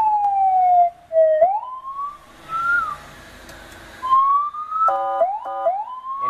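An electronic siren on a 3000-litre water tender fire truck is switched on, wailing and yelping through changing tones with brief stuttering bursts, loud and close, alone without speech.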